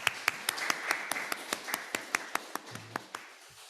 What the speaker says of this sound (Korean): 일단 환영의 박수를 드리도록 하겠습니다